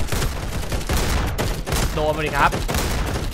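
Rapid bursts of gunfire from a Roblox shooter game, sharp clustered shots repeating through a few seconds of busy game noise, with a voice talking over the shooting.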